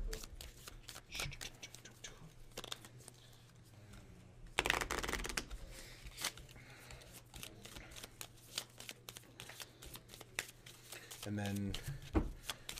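Cards are shuffled for the Fireball Island: The Curse of Vul-Kar board game in quick, close, riffling bursts, one loud flurry in the middle, with people talking quietly around the table.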